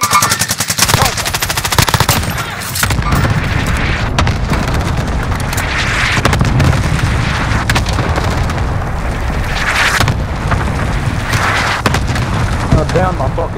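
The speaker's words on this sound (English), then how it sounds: "Allied cluster strike inbound." Call of Duty: Modern Warfare combat rumbles with a cluster strike's chain of heavy booming explosions mixed with constant rapid machine-gun fire, loud and dense throughout, while radio-style announcer voices and player talk cut in over the din.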